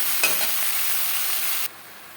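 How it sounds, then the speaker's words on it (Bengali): Pumpkin stalks get mixed with ginger and green chili paste in a hot pan, giving a brief close sizzle with stirring scrapes that cuts off sharply near the end. "কুমড়ো ডাঁটার সাথে আদা ও কাঁচা লঙ্কা বাটা বেশ ভালো করে মিক্স করে দেবো"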